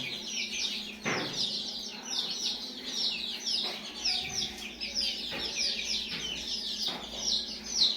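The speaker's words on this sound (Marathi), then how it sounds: "त्या आवडीने पक्षी पाणी पितात बघू शकता तुम्ही" Free-range village chickens cluck and chirp steadily close by while drinking water, with a few soft knocks scattered through the flock's chatter.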